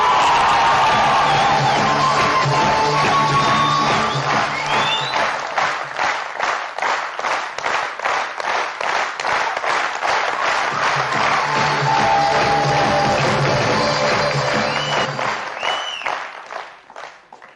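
At a seminar in Surat, a large audience claps and cheers with whoops. The applause turns into loud, rhythmic unison clapping for a long stretch, then fades out near the end.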